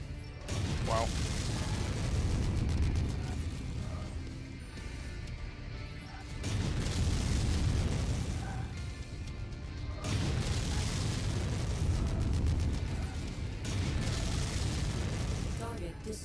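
Rapid AC-10 autocannon fire and explosions in MechWarrior 5 rumble on steadily as a dense, loud barrage, swelling in repeated waves over the whole stretch with no break.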